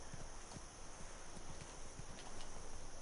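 Galloping horse hooves in the video game The Witcher 3, a fast rhythmic clip-clop of the rider's mount pounding steadily and close, with no talk over it.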